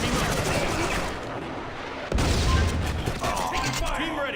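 Gunfire in the video game Counter Spy crackles as a dense, noisy barrage with a heavy booming hit midway, loud and close throughout.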